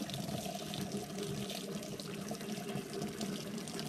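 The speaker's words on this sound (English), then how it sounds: "We're ready to go ahead and strain it off." Whey from a batch of homemade ricotta pours steadily through a strainer into a sink, a continuous close splashing trickle of liquid with no pauses.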